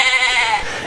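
A goat bleats once in a long, wavering, nasal cry that stays loud and close before fading slightly at the end.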